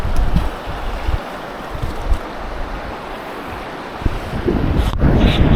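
Strong current of the Nambalan river rushing past, a steady broadband wash of flowing water with gusty wind buffeting the microphone and a louder splashy surge near the end.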